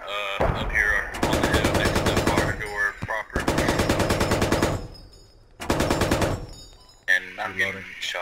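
Rapid automatic gunfire rings out in a Squad military shooter match, several long, loud bursts separated by brief pauses, with short single shots near the end and voices talking in between.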